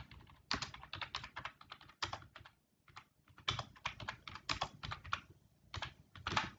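Fast, irregular typing of program code on a computer keyboard, clusters of crisp key clicks with short pauses, close and fairly quiet, no talking.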